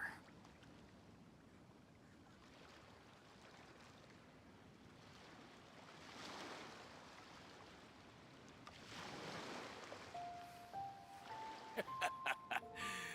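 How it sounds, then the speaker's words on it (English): Ocean waves wash in a video game setting, a low steady surf that swells in two broad surges, with faint tonal game sounds near the end. "The sound of the ocean waves."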